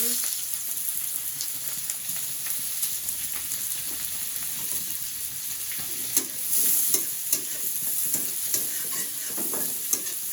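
Chopped onion and dried chillies fry in a pan with a steady, dense sizzle throughout, broken by a few sharp clicks and taps of stirring.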